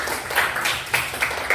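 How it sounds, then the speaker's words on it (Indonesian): A classroom of schoolchildren claps for a classmate, an irregular patter of several small hands with a few louder slaps. "Ayo tepuk tangan untuk si Rasid."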